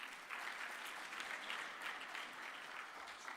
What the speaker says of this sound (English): Please clap hands for her.